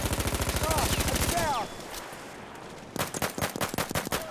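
A Modelo pistol fires in Battlefield 1, with a fast rapid string of shots followed by a quieter stretch and then a second series of loud, close, sharp shots.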